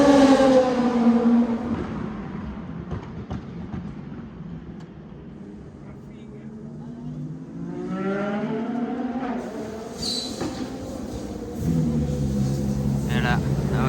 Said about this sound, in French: Lamborghini Huracan GT3 Evo 2 qui va courir cette année